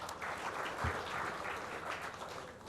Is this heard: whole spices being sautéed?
no